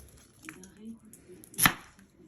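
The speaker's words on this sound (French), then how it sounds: "Alors, on va commencer par couper l'oignon" A single sharp chop of a kitchen knife through an onion being cut for a bolognese, one crisp nearby strike in an otherwise quiet kitchen.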